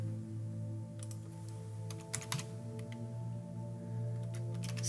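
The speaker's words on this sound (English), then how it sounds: "let's type in Bob" Fingers type on a computer keyboard in short clustered bursts of light clicks, close but fairly quiet over a steady electronic hum.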